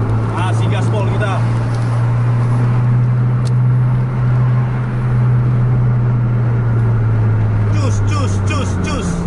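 A Scania bus engine at full throttle, a loud steady low drone that holds throughout, with a voice talking over it.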